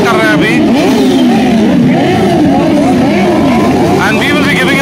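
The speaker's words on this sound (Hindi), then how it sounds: "जैसे कि आप देख सकते हैं कि बाइकर्स एंटर कर रहे हैं अभी" Motorcycles enter the grounds at India Bike Week 2021 with a steady, loud engine rumble and rising revs, mixed with voices talking nearby.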